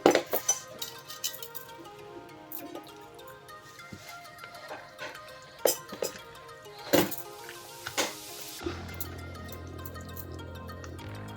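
A spoon clinks and scrapes against a bowl while mango pickle is stirred together with sesame powder, sharp metallic taps spaced irregularly and close by, ending in a low hum.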